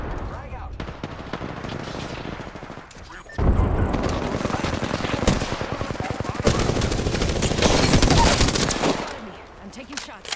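Heavy sustained automatic gunfire from an Apex Legends match on the Kings Canyon map, loud and continuous with rapid bursts that swell after a brief lull, while players talk over the shooting.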